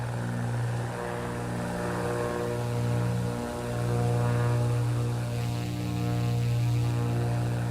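Steady propeller-engine drone of a Black Square Bonanza general aviation plane in MSFS 2024, a continuous low hum with strong even harmonics that swells slightly midway and holds constant throughout, with no talking.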